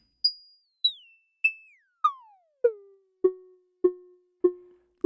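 An ST Modular Boba Fat hi-hat module tuned very high gives a steady series of nine sharp pinging electronic hits, each decaying quickly, their pitch sweeping downward from very high to a lower steady tone, clean and isolated.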